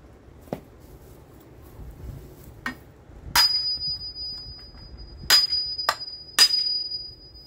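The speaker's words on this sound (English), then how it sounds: "Let me grab a hammer." Hammer blows on a Ford 4.0L engine cutaway, a handful of sharp, metallic strikes spaced irregularly, with one leaving a lingering high ringing tone, fairly close against a quiet background.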